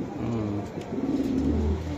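A racing pigeon coos close by, a steady low throaty burbling that repeats over two seconds with no voices.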